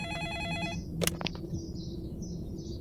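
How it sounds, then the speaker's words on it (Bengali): A synthetic electronic phone ringtone in a video game trills in a stepped pattern, then stops with a few clicks, leaving faint chirping tones over a low steady hum. "দেখো ফোনের রিংটোন আমি শুনতে পাচ্ছি"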